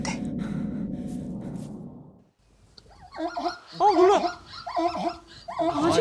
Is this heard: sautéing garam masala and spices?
no